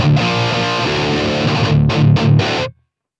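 An electric guitar played through Line 6 Pod Express amp models rings out as a loud, distorted sustained chord, followed by three short choppy stabs before it cuts off abruptly into silence.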